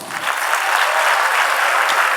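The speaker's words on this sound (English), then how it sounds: "A round of applause for all those who saw Sam Bahadur." Audience at a university event breaks into loud, sustained applause, dense clapping throughout with an occasional faint cheer.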